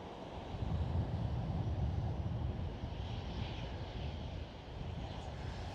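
A KLM Boeing 737 jet at Schiphol airport gives a steady, loud engine roar with a low rumble, swelling in and holding as the plane crosses nearby, with no talk over it.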